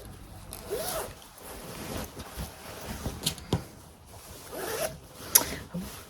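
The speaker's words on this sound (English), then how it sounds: "I'm just going to open the zip." A zipper on a sewn dress is pulled open by hand in a few quick rasping runs, close and fairly soft, with light fabric handling between them and no talking.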